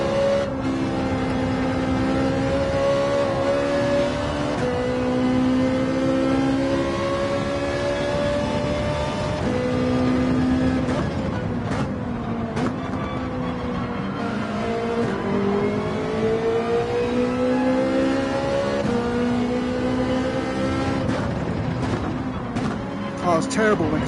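Race car engine in Gran Turismo 7, played in VR on PS5, revving up and down continuously with repeated pitch climbs and drops through gear changes, a loud, steady game engine note throughout.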